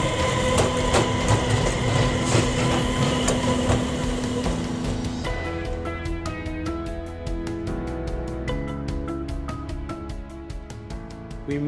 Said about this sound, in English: now the train arrives majestically. It's a two compartment train